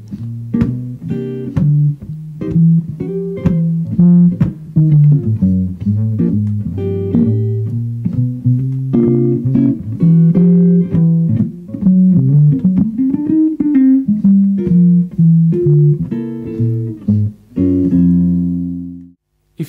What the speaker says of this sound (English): When you combine the three elements of walking bass, comping, and percussion, you end up with a whole rhythm section on guitar